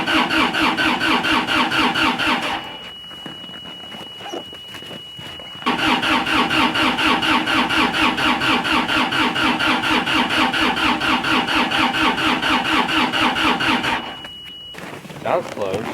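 A diesel engine cranks repeatedly in cold weather with a rhythmic, strained starter whir while the glow plugs are held down, pausing twice briefly before cranking again; close and loud.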